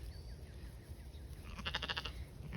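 Sheep bleat in a short burst near the end, a few overlapping calls rising over a low rumbling background.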